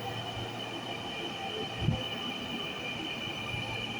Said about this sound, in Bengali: এই যে আর একটা মেট্রো রেল এসে এখানে পৌঁছাইলো।